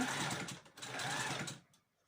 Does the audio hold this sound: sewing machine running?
yes